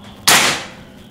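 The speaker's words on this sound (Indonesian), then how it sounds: "Tembakan kedua" One crisp, loud crack from a PCP Grand Kinto pre-charged air rifle loaded with a Hercules pellet, bursting abruptly out of near silence and trailing off over about half a second, with no voices.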